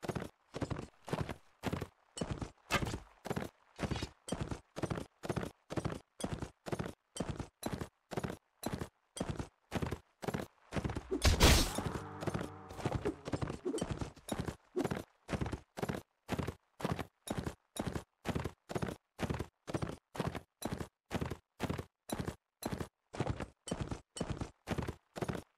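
A horse gallops in the Mount & Blade: Warsword Conquest game, hooves clip-clopping in a fast, steady rhythm that carries on throughout, broken midway by a short burst of louder clattering commotion.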